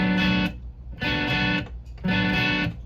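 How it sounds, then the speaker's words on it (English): Chunky, distorted guitar chords strummed in short palm-muted bursts, each cut off quickly, three choppy muted hits in a steady rhythm. "So you see how I'm muting that with my palm?"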